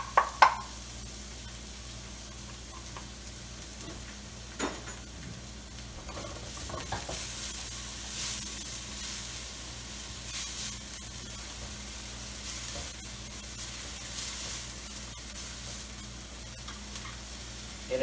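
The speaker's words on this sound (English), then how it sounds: "I got the oil heated up. Just put the onions in first." Onions drop into heated oil and sizzle with a steady, close frying hiss, marked by a few stirring knocks and scrapes and occasional sharper spatters from the pan.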